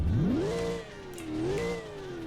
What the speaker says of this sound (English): But when we rev it up